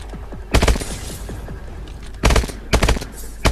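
Gunfire in Call of Duty Advanced Warfare comes as several loud, close bursts of rapid automatic shots separated by short gaps, with a busy background of game effects between them.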